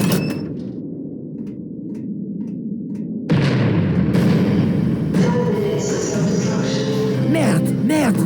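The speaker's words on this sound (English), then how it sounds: "The cannon overheated and took a bit longer to spew its deadly charge," A cannon in the video game Verne: The Shape of Fantasy fires with a sudden loud, deep boom about three seconds in. A heavy rumbling din follows, with other game sounds around it.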